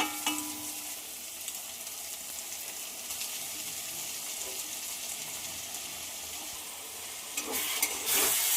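Grated egg sizzling and frying in a pan of cooked spice gravy while being stirred, a steady soft hiss with occasional scrapes, louder clatter near the end.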